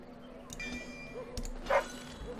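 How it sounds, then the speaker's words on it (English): A Mabari war dog from the video game Dragon Age Origins gives a short bark or yip near the end, faint and mixed with quiet game ambience and tones. "He's a smart little puppy."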